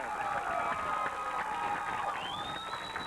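Home Wolves crowd cheering at a 1993 Flora vs Lawrenceville high school football game, a continuous roar of voices from the stands with a whistle rising near the end.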